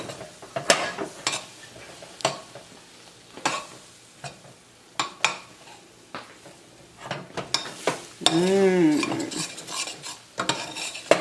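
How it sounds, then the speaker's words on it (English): Rice Krispies treat mixture stirred in a pot over low heat, giving repeated scraping and clinking strokes of a utensil against the pot with a soft sizzle underneath, fairly close, with no talk. "We want to stir this up. You're going to put it on low heat."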